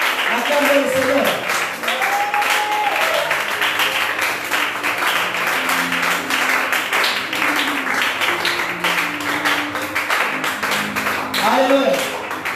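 A church congregation claps and cheers in acclaim during a deliverance prayer service, with continuous broad applause and lively voices running through the whole stretch at steady loudness.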